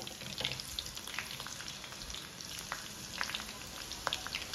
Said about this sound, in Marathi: इथं हिरव्या मिरच्या आहेत बारीक चिरून घेतलेल्या, त्या आपण तळून घेऊया.